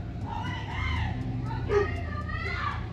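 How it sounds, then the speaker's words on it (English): Neighbors at a party shouting and screaming over a lamp, several raised voices overlapping at a distance, rising and falling in pitch against a low background rumble. "They're screaming over a lamp."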